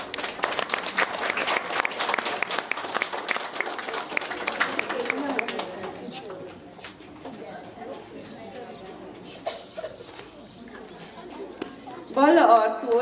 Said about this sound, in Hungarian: kérjük egy nagy nagy tapsot mindenkinek